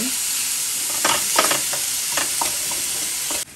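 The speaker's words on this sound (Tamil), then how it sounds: "தக்காளி நல்லா கொஞ்சம் கொல கொலன்னு ஆகிற அளவுக்கு வணக்கிக்குங்க" Tomatoes sauté in a pan for a mushroom gravy, giving a steady close sizzle with several sharper bursts of stirring and frying crackle, and no talking.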